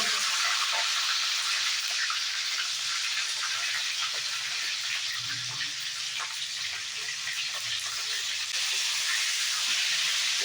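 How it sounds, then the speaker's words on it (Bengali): Cauliflower florets fry in hot oil for a cauliflower malai curry, giving a loud, steady hiss and sizzle that holds evenly throughout with scattered small crackles and no talk over it. "সেই ফুলকপিগুলোকে খুব সাবধানে তেলের মধ্যে দিয়ে"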